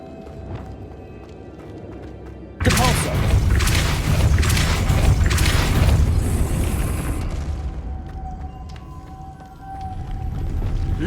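The Depulso spell is cast in a Harry Potter video game, giving a sudden loud magical blast that bursts in and rumbles for several seconds before fading back to quiet ambience.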